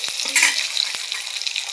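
Fish maw fries with whole green chilies, giving a bright, crackling sizzle. Two sharp utensil taps stand out against the pan, heard up close.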